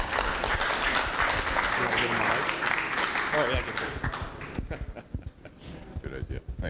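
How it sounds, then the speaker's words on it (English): An audience claps for Michael Elias, CEO and co-founder of Common Citizen, as he comes on stage, a full burst of applause that thins out into scattered claps while voices talk over it. "Let's give him a round of applause,"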